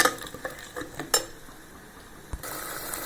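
Ground tomato, onion and garlic paste sautéing in a pan, with a few sharp spoon clinks and stirring scrapes early on, then a steady close sizzling hiss that swells near the end.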